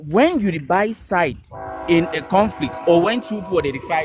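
A passing train sounds a sustained horn in the background, under close, continuous talking by a man.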